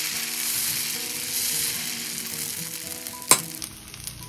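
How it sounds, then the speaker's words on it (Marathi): Foxtail millet dosa batter sizzling in ghee on a hot pan, a steady close frying hiss running throughout with one sharp clatter midway, no voices. "एक डाव भरून डोसा घालायचा आणि त्याला छान पसरवून घ्यायचं."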